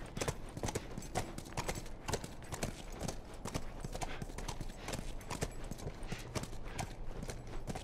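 Horse hooves in the video game The Last of Us Part I: a steady, close clip-clop of hoofbeats at a walking pace, continuous and even throughout.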